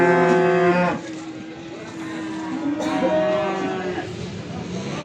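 Cattle at a livestock market in Beylagan moo loudly nearby, one long low call followed by another after a pause, with faint crowd noise beneath.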